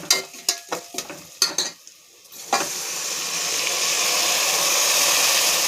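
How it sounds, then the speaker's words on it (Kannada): Moong dal and rice stirred in a pan of ghee and oil, with a few scraping spoon strokes followed by a steady, close frying sizzle that builds and holds. "ಇದೆಲ್ಲ ತುಪ್ಪ ಮತ್ತು ಎಣ್ಣೆಯಲ್ಲಿ ಒಂದು 2 ನಿಮಿಷ ಇದು ಚೆನ್ನಾಗಿ ಒಂದು ಸ್ವಲ್ಪ ಮಿಕ್ಸ್ ಆಗಬೇಕು."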